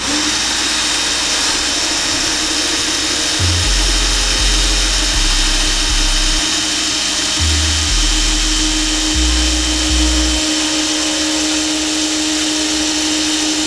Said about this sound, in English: I've got my drill with a 1/2-inch bit, and I'm going to place it right in the center hole